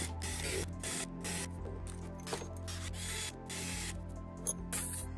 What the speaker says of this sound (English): And now it's time to countersink, so the butyl stay there and make watertight the bolts.